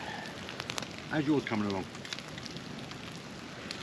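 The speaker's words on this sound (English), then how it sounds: "This rain's really starting to come in now." Rain patters steadily and softly on a hammock wild camp near the Devil's Chimney landslip on the Isle of Wight, a constant fine hiss with a few louder drips, while someone briefly speaks.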